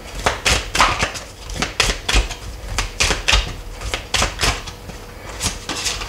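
A deck of tarot cards is cut and handled on a table, giving a close series of sharp taps, slaps and shuffling clicks in an irregular rhythm, with no talking.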